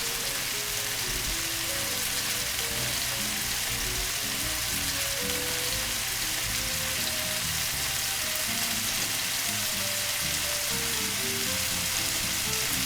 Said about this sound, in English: You're just gonna cook this down till everything is nice and soft and caramelized. While the mushrooms and onions are cooking down,